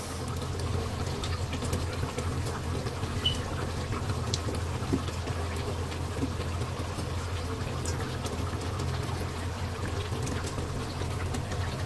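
Thin curry bubbling steadily in a pot with rupchanda fish just added, a continuous low gurgling simmer with occasional small pops, close and even throughout, no voices.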